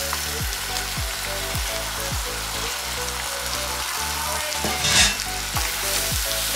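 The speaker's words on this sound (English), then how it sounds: "I'm going to transfer in the macaroni." Washed macaroni goes into a pan of sizzling sauce with corned beef, giving a loud continuous frying hiss with a few scrapes and clatters of the utensil, heard close up with no talking.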